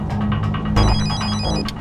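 An electronic telephone bell rings in repeated bursts, loud and close, indoors during a tense scene, with no talk over it.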